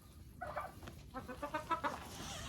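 Hens and turkeys cluck faintly in a poultry yard at feeding time, a short run of soft rhythmic clucks rising after a brief pause against a quiet background.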